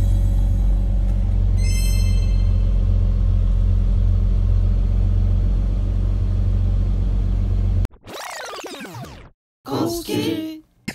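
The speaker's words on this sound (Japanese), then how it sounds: "ちょっとアイドリング下がりました。" A Toyota Supra engine, rusted inside and just repaired for a rough idle, runs at a steady low rumble for most of the stretch, then cuts off abruptly near the end, leaving short loud bursts of other sounds.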